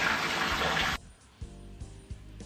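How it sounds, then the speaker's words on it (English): Water gushes loudly into a jacuzzi tub for about a second, then cuts off, leaving quieter splashes and a few soft knocks. "Filling up a tub also is pretty loud."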